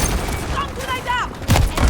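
A stun grenade goes off in a video game, a loud broadband burst about three quarters of the way through, set against dense, continuous game noise and faint tonal chirps.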